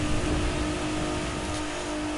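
Noble M500 hypercar engine revving hard in the racing game The Crew 2, a loud sustained roar that holds steady throughout the short stretch with no voices.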